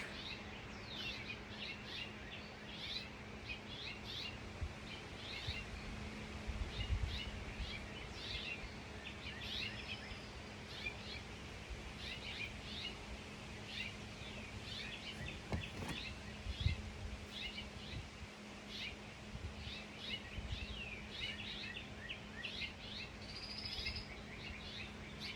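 Birds chirp and tweet outdoors in a steady, busy chorus of short, high calls repeating throughout, fairly soft and distant over a low background hum.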